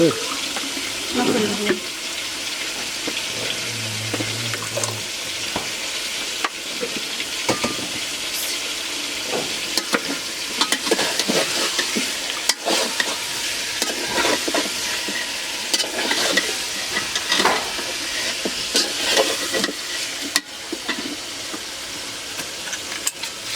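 Meat sizzles and crackles in a hot pan while a utensil stirs and scrapes it in irregular bursts, close and continuous over a steady frying hiss.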